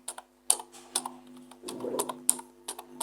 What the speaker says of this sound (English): So let me type in